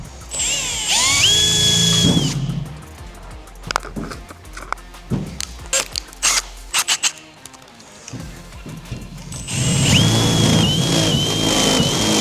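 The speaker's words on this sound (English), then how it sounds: "I might try my step drill and just do a smaller hole." A step drill bores a hole in metal during a VL Calais car build, with loud whining bursts of drilling at the start and end and scattered clanks and handling noises between them.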